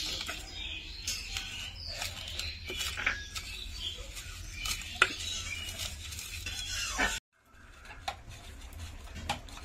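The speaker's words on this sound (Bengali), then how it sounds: "এবার আমি এগুলোকে ভালো করে মাখিয়ে নেব" Food being stirred and mixed with colouring by hand in a pot, prepared in a village-style kitchen: continuous close scraping and rubbing with occasional clinks of utensils, then a brief pause before the mixing resumes.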